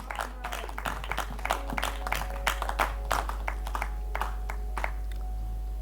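A church congregation claps and applauds together for the Lord. The clapping is steady and ragged, with many hands at a moderate distance, over a constant low hum.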